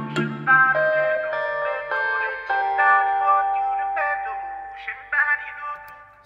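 A jazz guitar sample layered with a Logic marimba in a Nigerian pop beat, the two melodic lines ringing together as bright sustained plucked and mallet notes in a steady rhythmic pattern with no voices.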